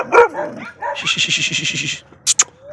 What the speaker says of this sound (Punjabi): ਕਾਠਾ ਡੌਗ ਆ, ਸ਼ਿਕਾਰੀ ਗੁਲਟੇਰ ਮਿਕਸ ਆ, ਪਿੰਕ ਨੋਜ਼ ਆ, ਬਿੱਲੀਆਂ ਅੱਖਾਂ